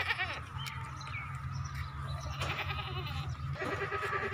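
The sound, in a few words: goat bleating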